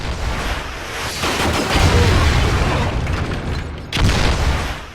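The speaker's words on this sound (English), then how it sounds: "There's a whole lot of explosions happening right now." Explosions go off in the Quantum of Solace video game: a loud, continuous barrage of booming blasts and rumbling bursts, with a fresh heavy boom near the end.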